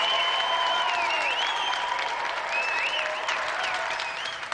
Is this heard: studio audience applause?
yes